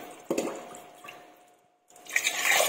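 Water splashes into a pot for cooking rice in two short bursts separated by a brief pause, close by with a clattering wet sound.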